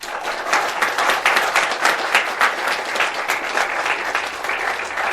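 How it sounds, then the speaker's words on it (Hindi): A crowd at a public gathering honoring a former soldier breaks into steady, dense clapping that holds at an even level for about five seconds, with no voices over it. "इन सबके लिए एक बार आप लोग ताली बजा दें।"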